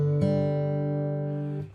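A single sustained plucked acoustic guitar chord from a fingerstyle picking pattern rings out after a sharp attack, holding steady and slowly decaying, with no voices.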